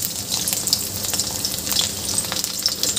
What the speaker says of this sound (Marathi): यामध्ये आपल्याला जे आपण लसूणचे तुकडे करून ठेवले होते ते घालून घ्यायचे आहे